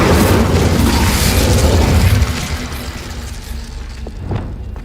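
The Incendio fire spell is cast in Hogwarts Legacy, a loud whooshing burst of flame with a heavy low rumble that cuts off after about two seconds and leaves a fading crackle with faint clicks.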